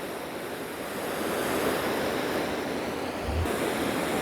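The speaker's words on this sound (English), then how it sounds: "This is the mist spray, and this is the shower." A garden hose spray nozzle on its mist and then shower settings gives off a steady, broad, close hiss of spraying water, unbroken and fairly loud throughout.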